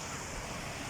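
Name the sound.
sea waves at the beach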